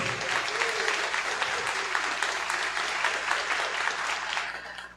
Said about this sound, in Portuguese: dê uma salva de palmas para esse Jesus poderoso